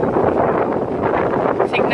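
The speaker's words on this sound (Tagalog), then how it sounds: "Sobrang lakas po ng hangin." Strong typhoon wind buffets an open second-floor house in Bataan under Signal No. 2, a dense continuous roar that stays loud throughout with gusting surges and no let-up.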